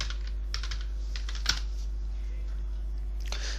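Keys on a computer keyboard tapped in short, quiet bursts of clicks with pauses between, close by over a low steady hum.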